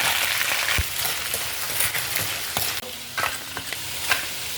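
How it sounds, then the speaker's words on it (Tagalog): Shrimp and crabs sauté in a hot pan with a dense, continuous sizzle and spattering, broken by sharp clacks of a utensil stirring, close and loud with no voices. "Igisa muna natin ito saglit guys."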